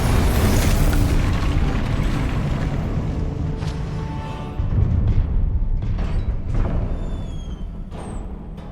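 Spell blasts from Confringo in Hogwarts Legacy land as loud, rolling booms with a sustained rumbling roar and a fresh burst about halfway through, no voices.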